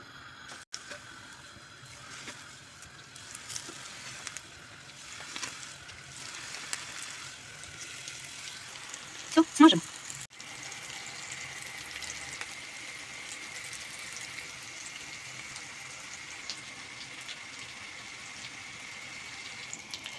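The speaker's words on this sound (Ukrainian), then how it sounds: "Добре нагрілася сковорода і вилажуємо сюди котлети." Cabbage and minced meat patties fry in a hot pan, a faint, steady crackling sizzle with a brief louder clatter partway through, close and without any talking.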